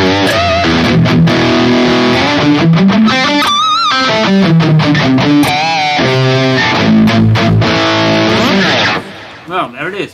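Dense, distorted high-gain electric guitar chords from a Fractal Audio Axe-Fx III ring out loud and saturated, with sustained notes and bends, then cut off abruptly near the end.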